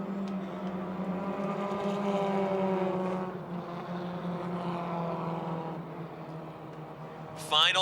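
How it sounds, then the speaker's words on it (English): Coca-Cola Super Compacts stock cars race out of turn four at Motordrome Speedway, a pack of engines droning together in a buzzing, harmonic-rich roar that swells then eases, with a sharp high burst near the end. "The Coca-Cola Super Compacts heading out of turn number 4."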